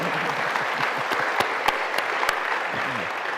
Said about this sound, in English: you should applaud there